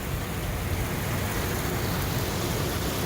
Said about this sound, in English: We're getting actual for real rain.